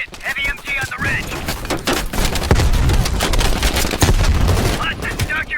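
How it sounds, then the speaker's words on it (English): Heavy machine gun fire in Call of Duty Black Ops Cold War comes as dense, sustained rattling bursts with booming impacts, loud and continuous, while voices speak over the opening and closing moments. "Heavy MG on the ridge."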